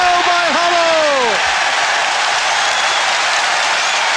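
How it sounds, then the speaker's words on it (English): Tottenham Hotspur fans in a football stadium applaud a goal, a loud, dense wash of clapping and crowd noise throughout, with a commentator speaking over the start. "he gets applause from his manager on the bench and from the Tottenham fans as well."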